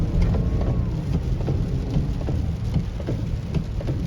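Heavy rain pounding down during a straight line wind storm, a dense, loud continuous wash of drops with low rumbling thunder beneath it and no voices.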